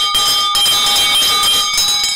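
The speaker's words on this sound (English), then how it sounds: "Bell, ring the bell." A bell rings loudly and continuously, its bright metallic tones clanging in quick repeated strikes with a steady shimmer.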